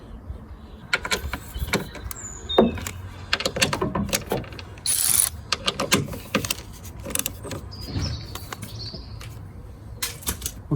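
A hand ratchet clicks in short, uneven bursts while tightening the 21mm strut top bolts on a 2004 Renault Laguna 1.9 diesel, heard close up with light metallic handling sounds between strokes.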